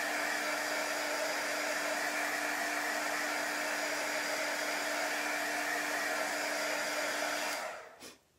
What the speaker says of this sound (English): like I use a pretty warm embossing gun, which puts a lot of heat on here